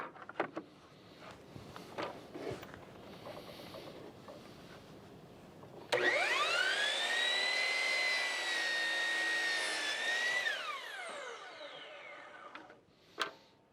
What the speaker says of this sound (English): The saw's already set up from the last cut we made, so I'm going to just go ahead and make this cut real quick.